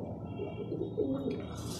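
A racing pigeon arriving home during a race gives a soft, low cooing call, faint and close, with a quiet background around it.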